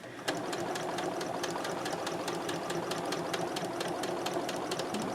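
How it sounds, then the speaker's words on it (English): A sewing machine runs steadily, zigzag-stitching over labels on a pillowcase with a fast, even needle chatter, close and continuous throughout. "I'm going to sew over those labels"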